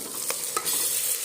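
Masala with red chilli powder fries in hot oil, a steady close sizzle broken by a couple of quick stirring scrapes, with no voices.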